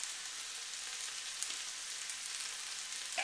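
Around 350 grams of ground beef frying in a pan, a steady, airy sizzle with faint crackles and a soft clatter near the end, nearby and even in level, no voices.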